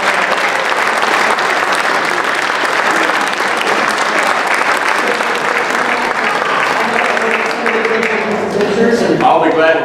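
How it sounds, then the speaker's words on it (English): An audience at a quarterly workshop gives sustained applause for an astronaut, with dense steady clapping throughout and voices rising near the end. "if we can give a round of applause to Colonel Lockhart"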